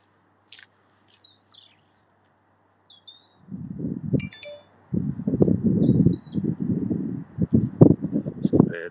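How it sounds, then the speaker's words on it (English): Faint bird chirps and short calls outdoors, first alone in quiet, then partly masked by nearby talking. "let's just enjoy that bird sound a second"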